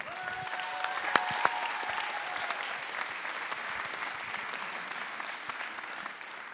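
An audience at a town's New Year greetings ceremony applauds a local savate boxing club president, steady crowd clapping throughout with a few sharper claps near the start, moderately loud.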